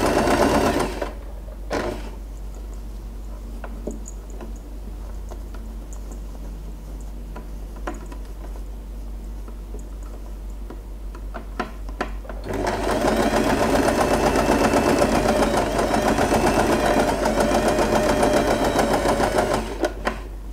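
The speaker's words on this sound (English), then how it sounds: "we can just pull the fabric and sew all along the edges" A sewing machine stitches along the edges of scrunchie fabric, a rapid steady mechanical whir that pauses briefly with a few clicks, then runs louder and continuous to the end, with no talking.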